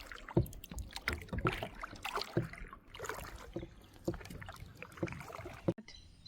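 Kayak paddling on a lake near an island at a Kabini resort, close irregular splashes and drips as the blade dips and lifts, with gentle water swirls between strokes.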